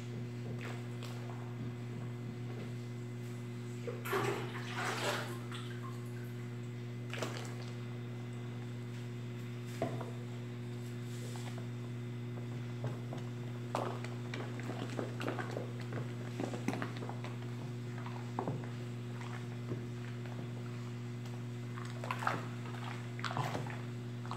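Water pours into a batch of homemade liquid soap made with bluing bar soap, powdered soap and fabric softener, about two liters added. Steady low hum runs underneath, with scattered splashes and knocks. No one talks.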